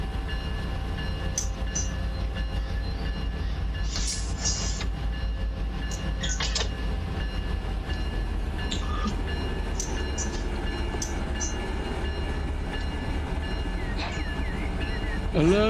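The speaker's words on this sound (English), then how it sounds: "I love Union Pacific trains" Union Pacific freight train rolling toward an East Los Angeles yard, a loud continuous rumble of heavy cars and wheels with occasional squeals and clanks, steady throughout, no talking.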